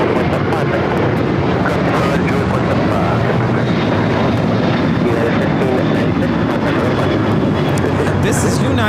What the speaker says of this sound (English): This is United Airlines 1596 taking off to San Francisco on the 737-800.